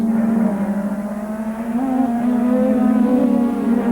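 Formula One cars of 1985 racing at the British Grand Prix, a loud, continuous high engine drone with steady pitch that swells slightly as the cars run toward a chicane.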